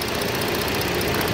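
A Ford Flex's 3.5 liter V6 engine idles steadily under the hood, a close, even mechanical hum with a faint rhythmic knock and no voices.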